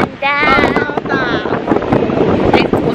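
Strong wind buffets the microphone on the rocky Penghu coast at high tide, a loud continuous rumbling gust while a person talks over it.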